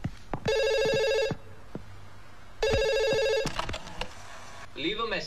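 A telephone rings indoors in two long electronic bursts separated by a pause, clear and moderately close, with faint background sounds and a voice coming in at the end.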